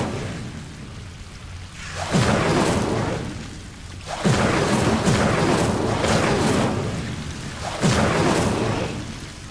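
Repeated Incendio fire spell casts in Hogwarts Legacy, three loud whooshing bursts of flame about two seconds apart, each swelling and fading into a roaring rumble.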